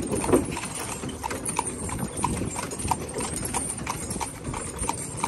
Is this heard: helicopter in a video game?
no